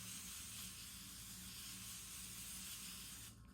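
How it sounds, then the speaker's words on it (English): Laura Mercier Ultra Blur hydrating setting spray misted onto a face in one long, steady, close hiss lasting over three seconds and cutting off at the end, with no talking. "I am going to spray down my face with setting spray."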